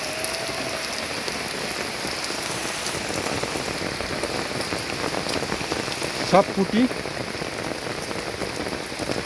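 Steady heavy rain patters onto water in a constant hiss while fishing, and a voice speaks briefly partway through.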